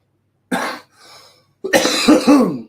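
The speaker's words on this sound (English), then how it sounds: "Excuse my bad cough again." A person coughs a few times in quick harsh bursts, close up, with a short pause between the first cough and a heavier final fit.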